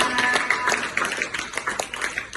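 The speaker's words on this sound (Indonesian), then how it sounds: "tepuk tangan untuk kita semuanya" An audience in a coding and AI classroom session claps hands together, a short burst of dense, steady clapping that stays fairly loud throughout with no talk over it.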